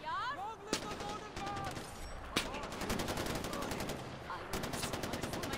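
Far Cry 4 gunfire crackles in rapid machine-gun bursts with occasional sharp single shots, mixed with voices speaking throughout.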